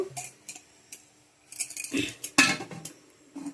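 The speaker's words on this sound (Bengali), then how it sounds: "এই যে ঢাকনাটা এখন দিয়ে দেব চলো ঢাকনাটা লাগাই দিই" Close metallic clinks and clatters of a metal lid being handled and set on a cooking pot for a mango cake, several sharp knocks in an uneven sequence.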